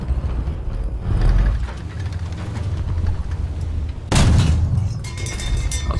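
A tank cannon fires in War Thunder, a sharp broadband blast at about four seconds that lands loud over a steady engine and battlefield rumble, with a lighter earlier impact.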